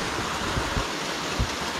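Water cascading at Kapartheeswara Kona waterfall, a dense, unbroken roar close by with a few brief low thumps, no voices over it.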